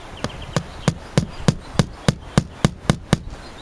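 Sharp strikes of a lightweight hammer driving nails into wood, about a dozen evenly spaced blows in a steady rhythm, close and clear with no talking.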